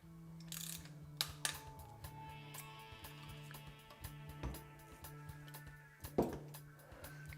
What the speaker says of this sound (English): We can finish tightening the mounting bolt, and then this is going to go torqued to a value of 6 Newton-meters.